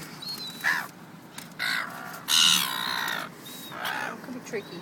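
Seagull calling close by, several harsh, drawn-out cries repeated over steady outdoor background noise, with people talking between calls.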